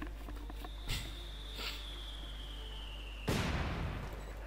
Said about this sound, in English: Mortar fires away.